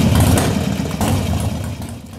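An S&S Super E carburetor engine idles with a steady, rumbling low throb that stays loud and close, its note wavering slightly as the throttle is cracked.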